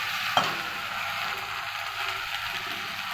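Banana flower (mocha) frying in hot oil in a pan, a steady close broadband sizzle with a brief clatter as the pieces drop in, then continuous crackling throughout.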